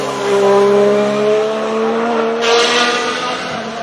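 A modern Formula 1 car with its wastegate open gives a loud, steady, strained whine with rising tones, and a hissing rush of air breaks in near the end. No one speaks over it.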